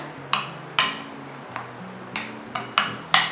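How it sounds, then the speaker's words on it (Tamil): Spoon clinking against a bowl while salt, pepper powder, garam masala and asafoetida are mixed for a bread potato snack batter, a series of sharp metallic taps spaced irregularly over a low hum. "இது எல்லாத்தையுமே நல்லா மிக்ஸ் பண்ணிக்கிறேன்"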